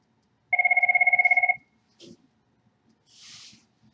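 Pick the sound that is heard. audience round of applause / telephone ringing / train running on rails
telephone ringing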